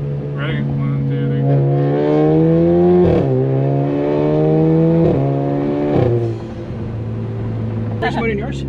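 An Alfa Romeo Giulia engine revs up toward 5,000 rpm, climbing in pitch through repeated surges before dropping back to idle; it is loud and close.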